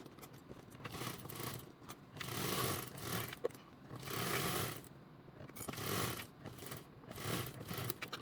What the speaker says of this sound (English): follow me over to the sewing machine and we'll get that basted down with a 1/8 seam allowance